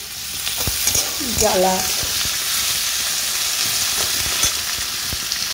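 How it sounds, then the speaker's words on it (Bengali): Turmeric and salt frying in a wok on a home stove make a loud, continuous sizzle with scraping stirs and clatter close by, joined by a brief spoken word. "এই হলুদ লবণ দিয়ে একটু ভাজাভাজি করছি"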